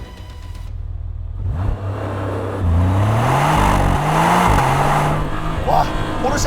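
Porsche 911 Turbo S Cabriolet hybrid pulls away from a standstill, its engine rising in pitch through several loud revving surges with brief gear-change dips, close by and dominant.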